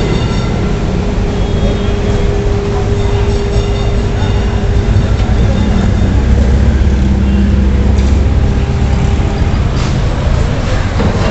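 A stuck tram on Kolkata's tram lines is being towed away, a steady loud rumble of rail cars and machinery with low droning hum throughout, and faint street noise around it.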